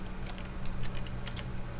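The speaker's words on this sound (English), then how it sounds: "Sounds like you're clicking a keyboard." Keyboard clicking from The Stanley Parable demo video game: a string of light, quick, irregular taps over a steady low hum, no voices.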